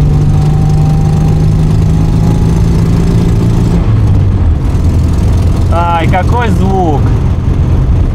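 A rebuilt motorcycle engine runs on a test ride, a loud steady mid-pitched drone whose tone shifts and drops partway through, then rises in quick revving sweeps, with a voice over it.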